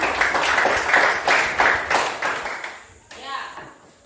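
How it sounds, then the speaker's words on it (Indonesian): Audience applause at a church gathering, a broad wash of clapping in several swelling bursts that fades out, with a voice starting to sing or speak near the end. "kita beri aplaus untuk"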